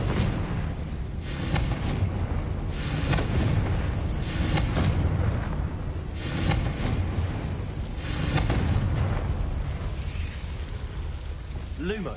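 Repeated Confringo blasting-spell explosions in the Hogwarts Legacy video game sound as loud booming bursts in a steady rhythm, about six of them, over a dense crackling rumble.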